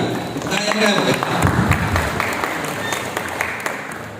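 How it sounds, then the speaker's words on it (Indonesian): Applause from an audience at a gathering of Bank Indonesia retirees, a dense, steady wash of clapping that stays loud and even throughout with no pauses. "Mari kita tepuk tangan yang meriah sebagai penghormatan kepada hidup kita."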